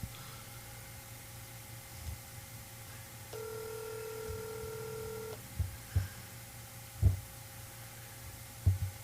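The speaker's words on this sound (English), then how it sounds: "I got the phone ringing." A telephone ringing on an outgoing call, a steady tone held for about two seconds over a low hum, followed by faint thumps in the quiet line.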